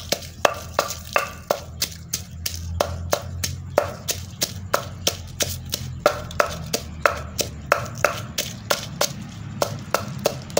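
A mortar and pestle pound curry paste of garlic, dried chili and a little salt. The strikes are sharp and steady, several each second, over a low background hum, and they carry on without a break.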